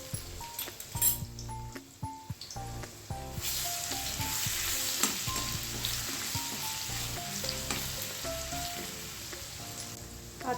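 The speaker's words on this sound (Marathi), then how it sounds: "आता ह्यामध्ये लसूण अद्रकची पेस्ट घालून घेऊयात।" Garlic-ginger paste, bay leaf and cinnamon sizzle in hot oil beneath background music, with the frying crackle steady and fairly quiet throughout.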